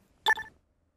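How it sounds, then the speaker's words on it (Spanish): A short telephone ring from the garage in Car Mechanic Simulator 2015: one brief electronic ring burst, clear and close, with nothing else around it. "Está sonando el teléfono."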